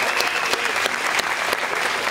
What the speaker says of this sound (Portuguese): Uma salva de palmas pra tu.